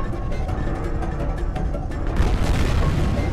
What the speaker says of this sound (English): He just threw a grenade!